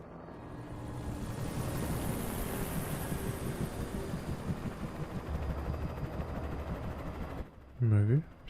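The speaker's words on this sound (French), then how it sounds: "Putain, c'est un hélico du FBI." A police helicopter flies overhead in the Alan Wake video game, a steady rotor roar with a noisy wash that holds for several seconds before cutting off into a short tonal game effect.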